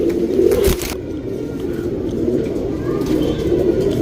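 Meter Gauge Tirawal pigeons coo steadily and close by, a low, continuous throaty rolling that carries through the whole stretch with no voices over it.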